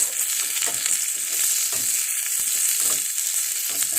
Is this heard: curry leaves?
yes